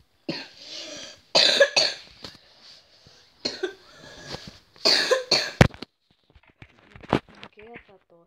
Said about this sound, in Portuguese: O que é essa tosse aí?